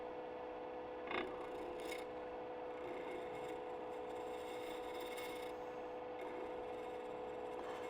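A woodturning gouge shaves a steady ribbon from a spinning wood blank on a lathe turning at about 1,700 RPM, giving a soft continuous rasp over the machine's steady hum, with a brief sharper scrape early on.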